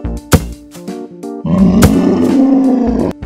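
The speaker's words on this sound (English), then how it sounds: "Lion." A lion roar, one long rumbling growl that swells and holds near the end, set over a light, plinking children's tune.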